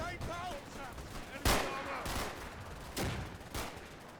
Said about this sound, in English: I also give the marksman permission to open fire on the Panthers